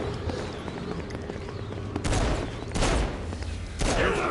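Pistol shots in the video game Saints Row ring out as three loud, booming bursts spaced about a second apart, over a constant dense layer of in-game noise.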